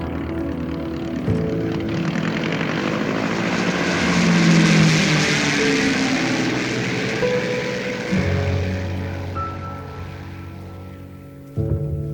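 A float plane flies over lakes at a Saskatchewan fishing lodge. Its engine drone is loud and steady, swells toward the middle of the recording, then eases off, with no voices.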